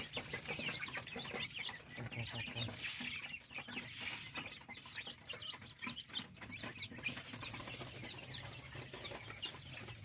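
Several chickens cluck and squawk continuously in a busy, noisy chorus, fairly close, with no one speaking.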